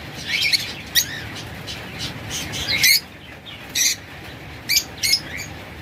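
A pair of sea green pet birds, lovebirds or budgerigars, give sharp, close squawks and chirps in short bursts with brief pauses between, over a low steady background hum.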